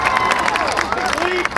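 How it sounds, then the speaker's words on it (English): A crowd at a Chicago Cubs baseball game in Mesa cheers and claps loudly, with whoops and excited voices throughout the short burst. "How about a round of applause for my family?"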